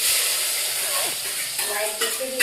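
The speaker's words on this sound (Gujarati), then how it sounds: "તેલમાં કોઈ શાક વગાડવાનું ચાલુ હોય" Vegetables sizzle in hot oil in a home kitchen, a loud continuous hiss and crackle close by with brief stirring scrapes and faint background voices.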